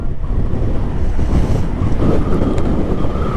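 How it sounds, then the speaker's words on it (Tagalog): Strong wind buffets the microphone outdoors during a delivery ride, a steady loud roar with low rumble that fills the whole stretch without letup. "Lakas ng hangin dito."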